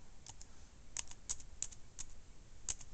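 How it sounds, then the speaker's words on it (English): A password being typed on an Eee PC laptop keyboard, with sparse, crisp key clicks at an uneven pace over a quiet background hum. "got my password in there"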